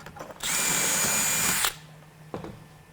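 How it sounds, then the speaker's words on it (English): A power drill reaming out a rivet hole on a Wilson case handle gives one high whine lasting just over a second, close and fairly loud, followed by faint clicks and handling noises. "Sometimes you got to ream the hole out a little bit if it doesn't want to go."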